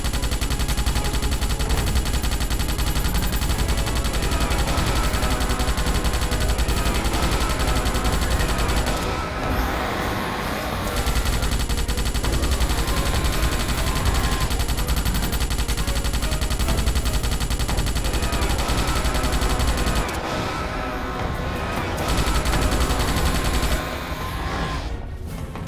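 Relentless gunfire in a Starship Troopers game, loud dense automatic bursts that run almost without pause, with two brief lulls before the shooting resumes.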